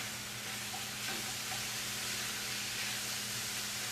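Salsa from a jar is stirred into browned cooked chicken in a pan, a faint steady sizzle and scrape with no talking.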